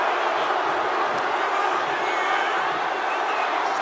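A packed wrestling arena crowd in WWE 2K25, at a Yokozuna versus Bianca match, roars in a loud, steady wall of cheering that barely varies from start to finish.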